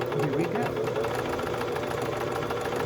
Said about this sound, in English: I've set my stitch length at 3, and I want a zigzag, so I'm going to set the zigzag at 3 too, and then I'm going to start.